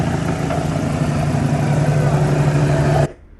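Car engine held at raised revs during an alternator test in a workshop, a steady loud mechanical drone running close for three seconds before it drops abruptly to a low idle.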